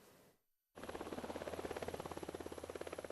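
A Tiger military helicopter's rotor thumps in a fast, steady rhythm after a brief silence, loud and close, with a continuous engine whine underneath, over snowy mountains.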